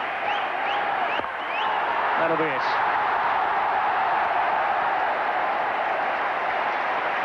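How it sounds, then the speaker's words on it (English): A large cricket crowd at an India versus England match with Azharuddin batting chants and roars in a steady, distant wash, with a commentator's voice heard over it. "The crowd chanting in anticipation."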